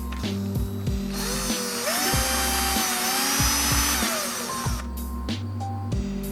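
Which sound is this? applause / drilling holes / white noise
drilling holes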